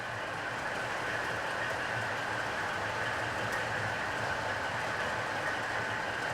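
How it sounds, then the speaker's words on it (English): Model trains run around a layout: a Western diesel with a passenger train, a Hymek with a freight train and a 125 unit. A continuous rolling whirr with faint clicking rail joints plays throughout, with no voices. "There's this Western pulling a passenger train, there's a high mech with a freight train, and there's a 125 unit running around"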